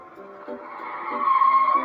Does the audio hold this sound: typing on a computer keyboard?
no